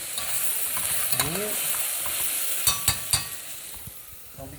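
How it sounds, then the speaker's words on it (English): Garlic and onions sauté in oil in a pan with a soft, continuous sizzle, punctuated by a few sharp stirring clacks of a utensil against the pan, and a short spoken remark. "So salty water, translucent garlic and onions. Nice saute sounds."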